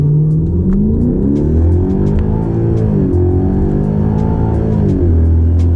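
2012 Hyundai Genesis 5.0 R-Spec V8 with 140,000 miles launching from just over 1,000 RPM in a 0-60 mph run, loud close engine revving up through the gears with rising pitch sweeps and shift dips.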